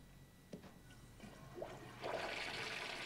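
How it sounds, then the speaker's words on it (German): Toilet flushing in the video game Fallout 76, a faint rush of water that builds into a steady gurgling swirl after a few soft clunks, heard alone. "Einmal runtergespült."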